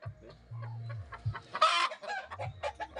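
Chickens cluck softly in a barnyard, with low repeated clucks and a brief louder squawk in the middle, close by and fairly quiet.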